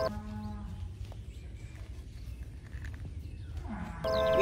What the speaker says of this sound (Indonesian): Wow, ini kerbau teman-teman.